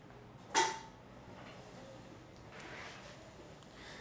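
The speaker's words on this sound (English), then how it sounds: "Now I'm going to go ahead and bring it back to a normal seated position" A Permobil MVS mid-wheel powerchair seat returns from a standing position to a seated one, giving a short creaking mechanical movement near the start, then a low steady hum.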